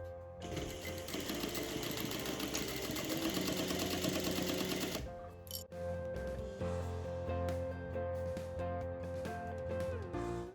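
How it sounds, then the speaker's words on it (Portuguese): A sewing machine runs a straight seam across fabric strips, a close, steady rapid hum for about five seconds, then stops, leaving handling noises and a low background tone. "passar uma costura reta, pode fazer até um retrocesso aqui em cima das faixinhas"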